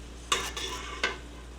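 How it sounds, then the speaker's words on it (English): A pot of French onion soup with softened butter gets a light stir: two or three brief scraping strokes against the pot over a quiet, low background. "A little bit of a light stir."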